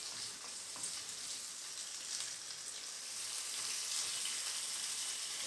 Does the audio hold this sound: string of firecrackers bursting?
no